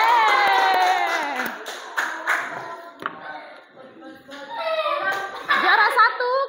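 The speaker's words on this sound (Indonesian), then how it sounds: "Beri tepuk tangan yang meriah untuk kelompok 3" Children clap and cheer in a lively burst for a winning group at a school project prize announcement, with chattering kid voices and laughter mixed in; the applause swells, dips briefly, then rises again.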